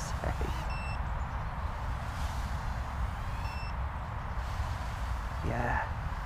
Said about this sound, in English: as well as the battery starts to deplete, the beeper going off more.